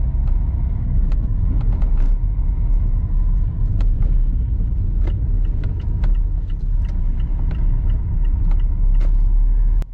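A car drives steadily through a residential part of Brookenby village in West Lindsey, its low engine and road rumble loud and continuous from inside, with occasional small knocks and rattles and no talking.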